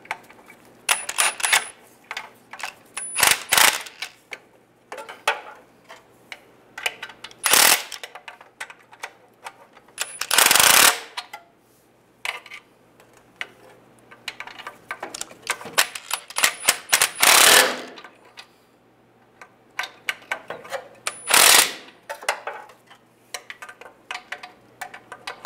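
Rear main seal housing bolts on a 2007-2013 Chevy Silverado are tightened in turn, giving sharp metallic clicks and ratcheting bursts spread out between quiet gaps.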